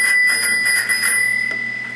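A German bicycle bell rings close by in a fast, rattling trill of bright metallic strikes over a sustained high ringing tone, fading slightly toward the end.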